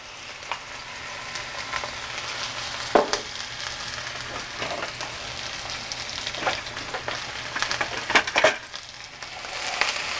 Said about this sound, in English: We're going to add that to our pan, and we are going to start browning our onion